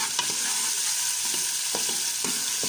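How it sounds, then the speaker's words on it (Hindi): Garlic and ginger frying with onions in a pan for aloo keema, a steady sizzle broken by several soft stirring scrapes and knocks, no voices. "लहसुन अदरक डालेंगे।"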